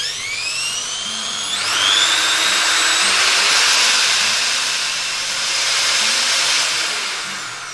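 A Doliz BA632 electric drill spins freely with no load, giving a loud, close, high-pitched whine that climbs in pitch as it speeds up, then holds steady with a slight swell in intensity.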